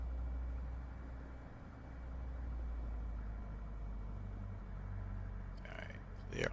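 A Diamond DA40 XLS aircraft taxis in Microsoft Flight Simulator 2024 with a steady low propeller-engine drone. The drone swells and eases slightly, and a brief higher clatter comes near the end.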